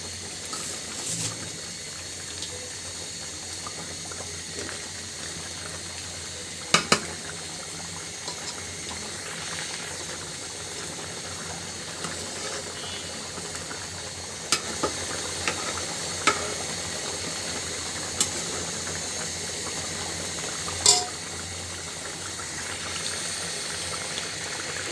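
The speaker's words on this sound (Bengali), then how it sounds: "ভুনা খিচুড়ি রান্না হচ্ছে" Bhuna khichuri with beef and polao rice cooking in a pot, a steady low bubbling and simmering hiss with a few faint clinks, no talk.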